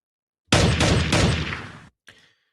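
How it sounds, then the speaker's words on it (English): A rapid burst of gunfire rattles out for over a second as a dense, loud fusillade, followed after a brief gap by a shorter, fainter burst. "There's your gunshots."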